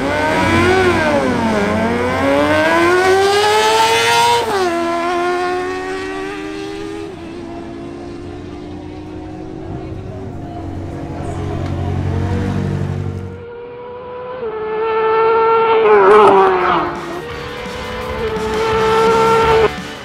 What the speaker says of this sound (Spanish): se enfrentan la Yamaha R6 de Eduardo Moreno versus la Honda CB1000R de Luis López.